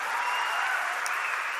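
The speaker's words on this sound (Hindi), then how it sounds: "ताली बजा दो उसके लिए जिसने आशीर्वाद दिया मेरा" An audience breaks into dense, continuous clapping that fills the whole moment at an even loudness, with no voices rising above it.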